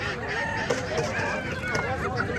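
Chickens and ducks packed in baskets at a busy poultry market, giving a dense, continuous chorus of clucking and squawking calls against a noisy crowd background.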